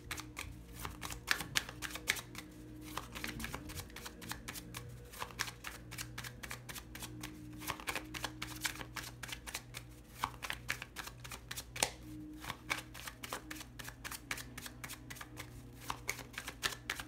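Tarot cards being shuffled by hand for a reading: a steady, quiet stream of soft riffling clicks and slaps that runs close and continuous throughout, with no talk.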